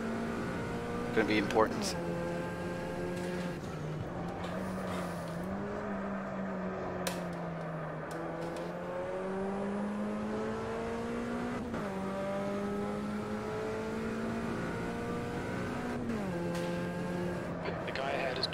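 A Puma P052 race car at Guaporé in a racing sim, its engine droning steadily and rising and falling through gear changes, with someone talking briefly over it.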